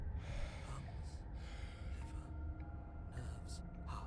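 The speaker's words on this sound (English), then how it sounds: "your eyes shoot open as you gasp for breath" A sharp gasp for breath from a character in the video game Slay the Princess, followed by softer breathy sounds over a low rumbling background.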